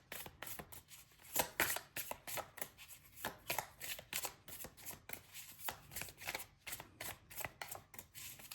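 Tarot cards being shuffled by hand in a rapid run of crisp, papery riffles and slaps, close and fairly quiet, with no talking.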